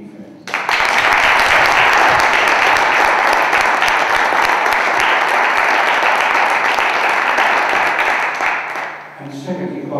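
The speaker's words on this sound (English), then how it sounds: "first to give an applause for those who organized this whole event" Sustained, loud audience applause at a public debate on the inclusion of African youth, steady dense clapping for about nine seconds before tapering off, with a brief voice at the end.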